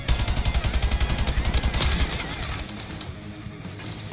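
Rapid automatic gunfire from a rifle in the video game Call of Duty Advanced Warfare rattles in a fast, even burst for about two seconds, then gives way to quieter game sounds.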